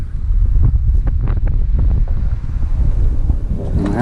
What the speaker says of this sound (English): this wind is getting kind of brutal out here